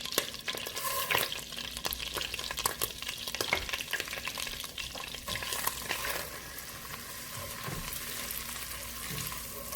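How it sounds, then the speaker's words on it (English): Vermicelli (sha'iriyya) sizzles as it toasts in onion oil and butter in a pot for koshary, with steady frying crackle and repeated scraping stirs throughout. "We're gonna toast the sha'iriyya"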